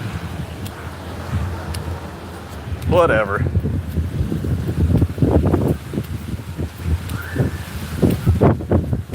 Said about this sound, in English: It is so windy out here tonight,